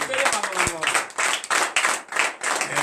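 A church congregation at morning prayer in Benin claps in rhythmic bursts of acclamation, several hands striking loudly and unevenly together while voices call out among the claps.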